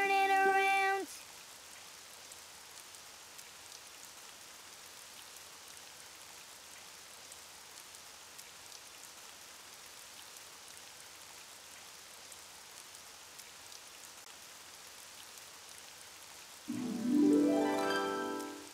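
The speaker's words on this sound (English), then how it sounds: "Oh, it's raining outside." Soft, steady rain patters continuously in an animated cartoon scene, with brief louder sounds at the start and end.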